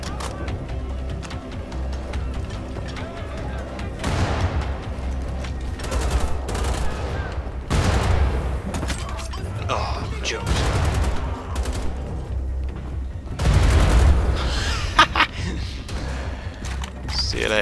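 Gunfire from the video game Wolfenstein: The Old Blood, dense bursts of shots and mechanical clatter through a busy in-game mix, loudest around the middle and near the end, with someone talking over parts of it.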